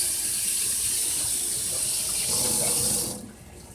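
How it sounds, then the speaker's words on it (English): Tap water runs steadily from a kitchen faucet while lettuce is rinsed for tacos, a close, continuous broadband splashing rush that stops abruptly near the end, leaving a quiet room tone. "So, wash off the lettuce."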